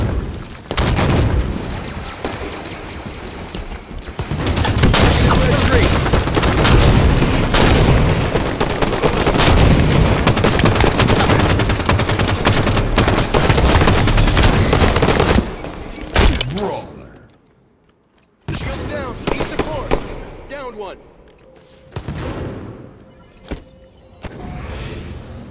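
Loud, dense gunfire and booming grenade explosions in the video game Halo 5 Guardians during ranked Slayer play, nearly continuous for about fifteen seconds, then dropping away into scattered shots, with voice callouts heard between bursts.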